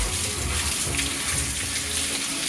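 Water splashes and trickles steadily over a dog's face during a flea and tick bath, a continuous close, spattering wash with no talk.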